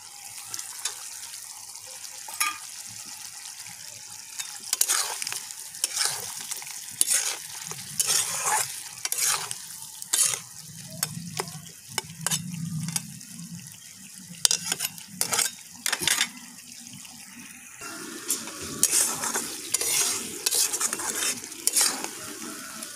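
Chicken pieces and potatoes fry in oil in a pan, a steady sizzle broken by repeated scraping and clattering strokes of a spoon stirring the pieces, close and continuous with no talking.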